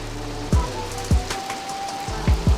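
Steady rain falling in GTA 3 on a rainy day: a continuous hiss of rain with a few sharp low thumps and a faint tone beneath, no talking.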